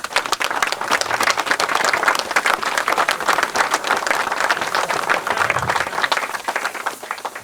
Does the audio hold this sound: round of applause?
yes